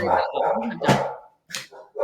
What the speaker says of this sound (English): sorry, my dog's in there